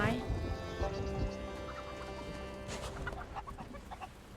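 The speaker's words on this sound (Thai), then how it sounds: "มีไก่หลากสีเลย" Chickens cluck repeatedly in the video game Sea of Thieves over a steady backdrop of sustained tones and ambient game sounds, moderately loud throughout.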